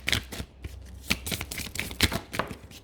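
Tarot cards are shuffled by hand and fall onto a surface in a series of quick, close, crisp riffling slaps and flutters at an irregular rhythm, with no one speaking.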